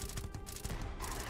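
Rapid, dense gunfire from a flechette-round weapon in the sci-fi game Starfield, a loud, continuous burst of shots crackling without pause for the whole moment.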